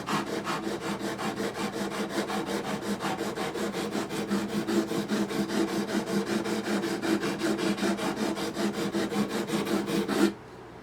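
Frets on a Yamaha F310 acoustic guitar are sanded with quick, even back-and-forth strokes, a close rhythmic rasping that continues steadily for about ten seconds before stopping abruptly.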